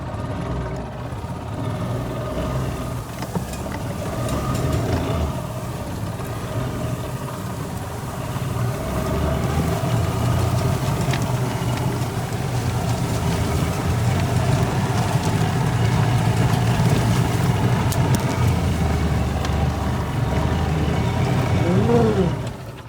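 An old golf cart motor drones steadily as it drives up a hill on a farm, a continuous loud engine and drivetrain hum that builds slightly before cutting off at the end.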